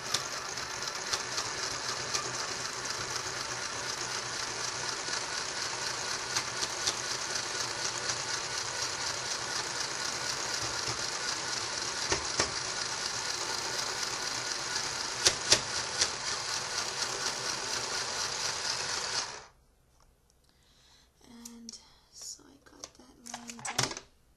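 Sewing machine stitching plushie fabric, a loud steady rapid whirring chatter for about twenty seconds that then stops, followed by a few faint handling sounds.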